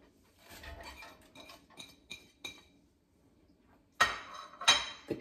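Chopped onion tipped into a pot of witchetty grub soup with bacon, heard as soft clinks and taps of a utensil against the pot, a scattered run of light hits followed by two louder knocks.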